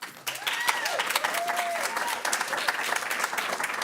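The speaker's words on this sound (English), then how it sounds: "No clapping, please." Audience clapping at a school board meeting, a burst of fairly loud applause from a room of people, with whistles and shouts mixed in over the clapping.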